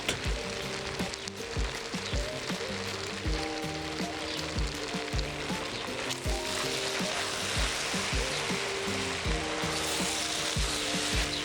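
Potato and leek cook in butter in a pot with a steady, close frying sizzle, punctuated throughout by regular clicks and scrapes of a utensil stirring the pieces.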